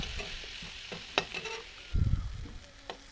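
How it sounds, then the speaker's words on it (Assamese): Small chopped pumpkin pieces fry with salt and turmeric in a pan, giving a low steady sizzle with occasional scrapes and a louder stirring burst near the middle. "সৰু সৰুকৈ কাটি থোৱা ৰঙালাওখিনিও ভাজি লৈছোঁ"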